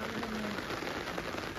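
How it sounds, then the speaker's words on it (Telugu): Rain falls on a terrace garden during a harvest of dragon fruit and ivy gourd, a close, even patter and hiss of drops on surfaces with a brief faint tone early on. "వర్షం తగ్గితే తీద్దాం."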